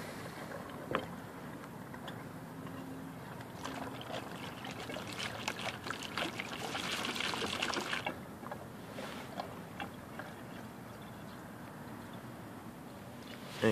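Water swirls in a vortex draining between two joined two-liter plastic bottles, a soft continuous gurgling rush that swells in the middle and then eases, close and fairly quiet with no talk.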